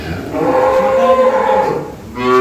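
A six-toothed Jersey dairy cow at a dairy farm gives one loud, drawn-out moo close by, rising then fading, with a short second bellow starting at the end.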